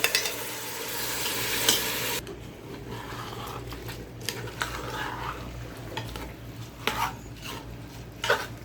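Rice is added to frying chana dal in a pan, sizzling while a utensil scrapes and stirs, with intermittent clinks against the cookware; a loud hiss at first, then softer frying.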